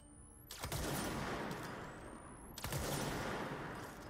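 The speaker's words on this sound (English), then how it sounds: "It's a cannon." A charged cannon weapon fires twice in the video game Control, each shot a sharp heavy blast with a long rumbling decay, spaced about two seconds apart and loud against a quiet backdrop.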